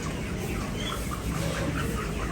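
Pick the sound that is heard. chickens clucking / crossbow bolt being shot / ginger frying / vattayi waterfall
chickens clucking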